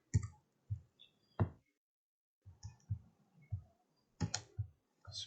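Sharp computer mouse clicks while selecting lines in DesignSpark Mechanical CAD software, coming as scattered single and double clicks with short pauses between, close and fairly quiet with no talking.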